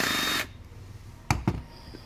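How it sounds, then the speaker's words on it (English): Screws being removed from the control box of a 1500Li unit: a loud buzzing power-driver burst opens the clip, then two short, sharp clicks or clunks follow close by. "Now I'm going to take out the other 2 screws here and here that hold it to the box."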